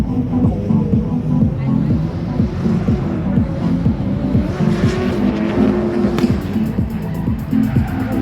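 Drift cars run in tandem at the Drift Indy competition, a loud, throbbing engine roar with rough rumble and wind buffeting that barely lets up.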